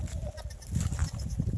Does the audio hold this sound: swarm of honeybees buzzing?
no